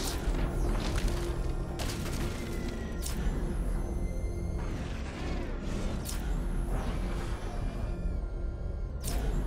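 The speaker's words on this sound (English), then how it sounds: "I can use the power winch to trigger a controlled explosion." A controlled explosion is set off with the power winch in Batman: Arkham Knight. A dense, rumbling boom and crashing debris fill the scene, with sharp impacts scattered through a constant roar.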